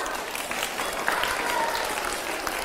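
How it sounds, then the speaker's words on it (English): A crowd claps steadily, a dense wash of applause that holds at an even level throughout. "Give yourself a round of applause."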